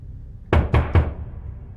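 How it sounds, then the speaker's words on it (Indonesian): Three quick, firm knocks on a door sound close by in a Thai horror film scene. The raps come in an even, rapid rhythm, followed by quiet. "tiba-tiba seseorang mengetuk pintu."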